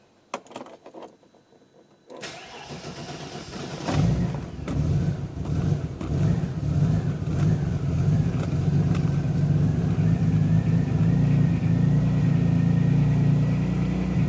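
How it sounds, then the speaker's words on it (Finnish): A car engine cranks briefly and catches, then settles into a steady, fairly loud idle that runs for the rest of the stretch after a quieter opening with faint handling noises. "Mut mä pistän auton käyntiin, niin näkee sitten, miten nuo arvot rupeaa siinä sit muuttumaan."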